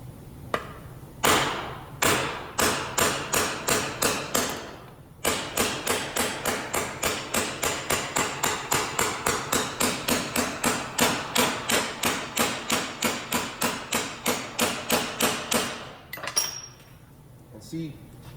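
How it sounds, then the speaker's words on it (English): A steel hammer repeatedly struck against another hammer beside a bent metal panel, a steady series of sharp, ringing metallic clanks, close and loud, with a brief pause early on and a short voice near the end. "I'm gonna go like this and hit this hammer"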